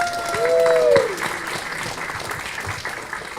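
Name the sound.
audience applause at a meetup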